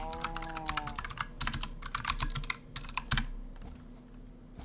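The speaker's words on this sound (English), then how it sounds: "like if I type dot" Quick, light clicking of a computer keyboard in bursts of keystrokes with short pauses, close by, fading to quiet near the end.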